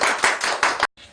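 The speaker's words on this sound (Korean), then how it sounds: "박수 한번 쳐주십시오" An audience at a Korean talk event claps in a short burst of about five loud, even hand-claps, which cuts off abruptly after under a second, with no talk over it.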